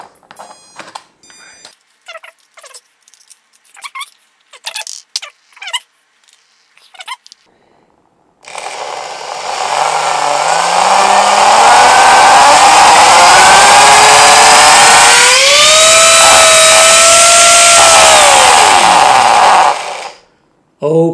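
A spinning top spun up to very high speed gives a loud, rising whine that climbs in pitch, holds for several seconds and then drops away, after a stretch of short clicks and taps.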